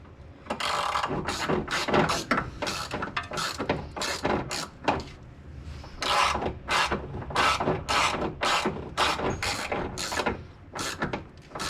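A ratchet tightening the steering coupler bolt on a BMW E46, quick repeated clicking bursts in an uneven rhythm, close and fairly quiet, with no voices.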